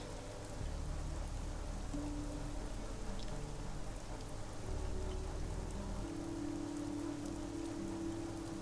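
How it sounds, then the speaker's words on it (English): Steady rain pours in the video game Back to Scrubs, a dense, even hiss of drops with a low rumbling undertone that continues unbroken throughout, with no one speaking. "Hopefully the rain will stop by then."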